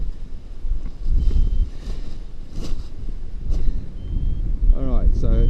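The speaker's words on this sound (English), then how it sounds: "So this wind still getting strong. It's at least 15 knots" Strong gusting wind, around 15 knots, buffets the microphone while a paraglider is readied for launch outdoors at Bombala, a steady rough roar with someone speaking over it.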